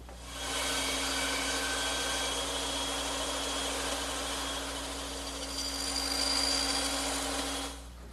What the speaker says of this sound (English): And I'll make those cuts on my bandsaw.